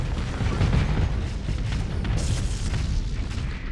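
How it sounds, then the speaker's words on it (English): Missile launches and detonations in the space combat game Starsector, a dense, continuous rumble of low booms and bursts with no clear gaps, steady and fairly loud throughout. "Fire all the missiles!"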